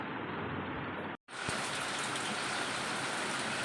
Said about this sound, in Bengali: বৃষ্টি শুরু হয়েছে